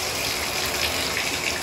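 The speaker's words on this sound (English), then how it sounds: "That gives us the hottest amount of water coming out of this valve." Hot water gushes steadily from a Delta MultiChoice universal shower valve set to its hottest position, a loud, unbroken broadband rush with no pauses and no talking.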